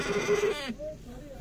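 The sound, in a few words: goats bleating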